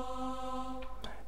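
A sampled vocal from the Olympus Elements library holds an 'O' vowel on a steady pitch, then changes abruptly near the end with a brief breathy burst. It is short and close, with no talking.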